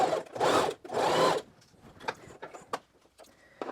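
Sewing machine basting a skirt side seam, two short, fairly loud bursts of rapid stitching, followed by softer clicks and handling noises of fabric and the machine.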